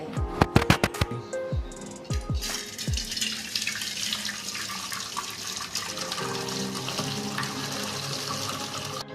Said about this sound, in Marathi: आता मी चिकनचं पाणी गाळून घेतलं आहे